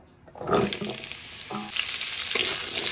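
Cut papaya (amruta bhanda) dropped into hot oil in a kadai, a quiet start then a sudden burst of sizzling and stirring that holds steady and close.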